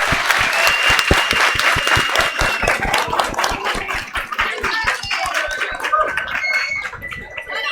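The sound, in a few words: applause for children in a classroom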